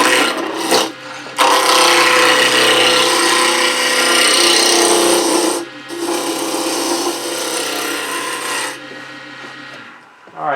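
Woodturning gouge cutting a spinning workpiece on a lathe while turning beads and coves, a loud continuous rasping scrape with two brief pauses, ending as the cut stops.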